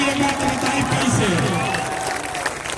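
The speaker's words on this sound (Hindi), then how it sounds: "अब बजा लीजिए ताली एक बार" Rally crowd in Bihar clapping together at a Jan Suraaj Party political gathering, a dense patter of applause and cheering that fades slightly toward the end, under someone speaking into a loudspeaker.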